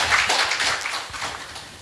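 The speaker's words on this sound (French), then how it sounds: "Est-ce qu'on peut applaudir s'il vous plaît?" Applause from the audience at a talk-show taping, a dense wash of many hands clapping at moderate loudness that swells early and then settles into a softer, even patter.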